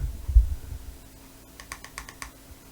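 Three quick clicks from the button of an Innokin Sensis vape device, close and crisp in a quiet room, with a couple of soft bumps just before.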